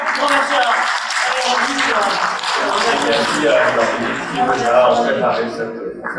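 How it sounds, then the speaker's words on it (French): An audience at a French talk on collaborative robotics and workplace health and safety applauds its presenter, a dense, sustained wash of clapping from many hands lasting several seconds, with voices mixed in. "je vous propose qu'on applaudisse notre intervenant"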